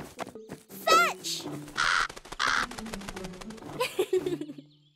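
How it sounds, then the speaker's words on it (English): A cartoon house crow caws among lively animated sound effects and character voices, with a few loud, close caws and other voices around them. "I'm glad Zari got to meet her house crow friend again"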